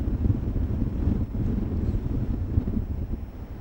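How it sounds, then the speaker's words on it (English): Strong wind gusts across a microphone on a coastal walk between Penzance and Land's End, a loud continuous low rumble and buffeting with no speech. "Wind is getting strong now."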